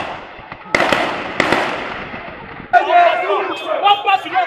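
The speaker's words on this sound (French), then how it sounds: "Des jets de gaz lacrymogène et des coups de feu pour repousser les manifestants" Tear gas launches and gunshots at a street protest at Total d'Amba in Bafoussam: two sharp, loud bangs a moment apart, then an agitated crowd shouting and chanting.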